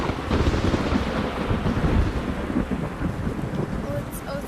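Thunderstorm with steady rain in the VR nature game Nature Treks, a continuous loud rumbling wash of rain and low thunder throughout, with no talking.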